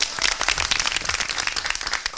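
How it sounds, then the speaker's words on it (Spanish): Loud, steady applause from an audience, dense clapping sustained throughout with no voices. "Los recibimos con un fuerte aplauso."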